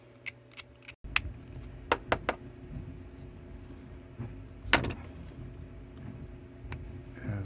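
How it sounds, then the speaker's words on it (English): Small snips trim the bottom of a tabletop terrain ruins model, giving a series of sharp, close, irregular clicks and cuts over a quiet background. "sometimes those bottoms just need the smaller snips to clean them off."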